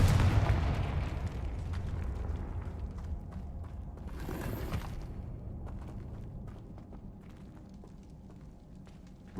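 A Confringo fire-blast spell in Hogwarts Legacy bursts as a soft, muffled boom with a short rush of noise, set against a low mechanical background hum.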